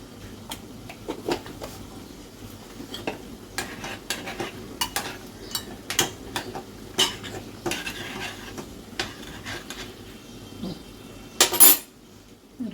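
Chicken stew being spooned from a pot into a serving dish, with repeated clinks of a ladle and utensil against cookware at steady, irregular intervals, a brief louder scrape near the end.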